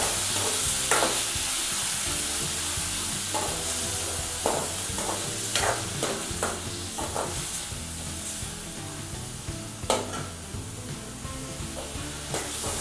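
Prawns sizzle in a frying pan while being lightly stirred for masala prawn fried rice, a loud continuous hiss of frying with scattered scraping clicks of the spatula, close up.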